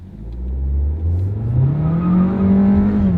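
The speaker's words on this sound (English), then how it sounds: "So what we're gonna do is floor it and see what it does." A turbocharged 1.4-litre Volkswagen engine pulls hard at full throttle, its loud, rising drone climbing steadily in pitch as the car accelerates, heard up close without any talking.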